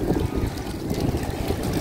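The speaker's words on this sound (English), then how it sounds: "Whoa, it's windy." Strong wind buffets the microphone in a steady roaring rush along an open city waterfront quay, loud and continuous with no talking.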